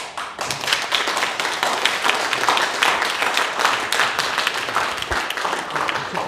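An audience at a seminar talk applauds. Many hands clap loudly and continuously, forming a steady, dense patter from start to finish.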